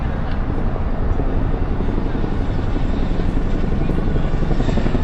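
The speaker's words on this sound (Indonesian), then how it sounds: "Ada helikopter." A helicopter passes overhead in Singapore, a continuous loud rotor thump and engine rumble that stays steady through the whole stretch, with outdoor background noise.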